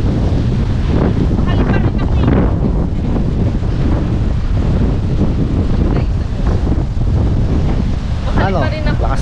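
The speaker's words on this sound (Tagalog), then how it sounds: "Lakas ng alon, no?" Strong wind buffets the microphone over the heavy rush of crashing waves at a beach in Cabangan, Zambales, a loud, constant roar with brief voices in the mix.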